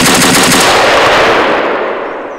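A DP28 machine gun fires in Garry's Mod, a loud, dense burst of rapid shots rattling continuously for about two seconds before the sound tails off.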